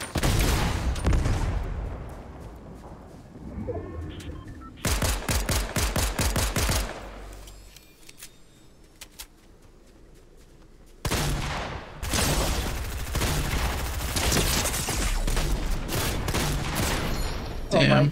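A heavy shotgun blasts repeatedly in a video game shootout, with dense, rapid bursts of booming shots, a quieter lull in the middle, then another long run of loud, close firing.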